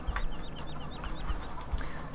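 Chickens clucking in the farming video game Farming Simulator 15, a run of short repeated clucks over a steady background hum, with no talk.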